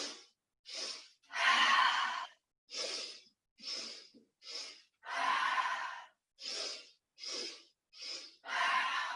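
Deep yoga breathing: slow, forceful inhales and exhales repeat about a dozen times in a steady rhythm, close and loud, with no talking.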